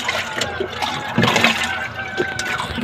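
Liquid vaccine for a flock of chickens is poured into water in a bucket and stirred in, giving steady close sloshing and trickling with small splashes throughout.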